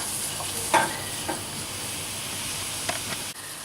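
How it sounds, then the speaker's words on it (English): Mushrooms frying in butter in a pan give off a steady close sizzle and hiss throughout, with a few soft clinks and scrapes from stirring. "Once the mushrooms start to cook and the juices start to flow, you'll find that the butter comes back."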